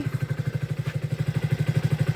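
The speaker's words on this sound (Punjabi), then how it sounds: "ਮੋਟਰਸਾਈਕਲ ਤੇ ਇੱਧਰ ਸਟਾਰਟ ਕਰ ਲਿਆ ਬੋਬੀ" A motorcycle engine runs close by with a steady, rapid, even chugging pulse that holds without a break; no voices are heard.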